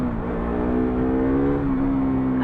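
A vehicle out on a ride accelerates with a loud, steady engine drone whose pitch holds and slowly rises, close by and continuous with no talking.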